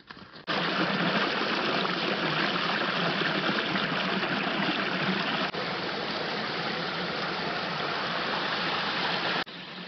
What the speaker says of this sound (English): we're taking a break at a little creek crossing, and we just keep finding little waterfalls all over the place